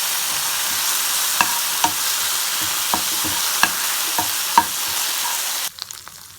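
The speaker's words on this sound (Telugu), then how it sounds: "మిక్చర్ మొత్తం ఒకసారి కలుపుకోవాలి" Chili powder and red chili sauce sizzle in a hot pan while a spoon scrapes through the mixture in regular strokes, the frying hiss cutting off near the end.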